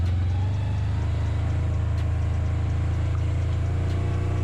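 A 2022 Polaris General Premium side-by-side in two-wheel drive gives off a steady, loud, low engine drone under a light part-throttle pull, holding an even rumble without any talk over it.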